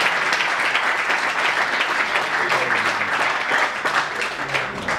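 A crowd at a Cuban music event in Miami keeps up dense, steady clapping at a fairly loud level with no voices on top.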